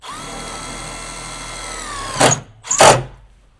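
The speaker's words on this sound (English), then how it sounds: "you can go ahead and throw a screw up in this top corner." A power drill drives a screw into the top corner of a Sprinter van's framing: a steady high whine, then two short loud bursts as the screw bites and seats, close by.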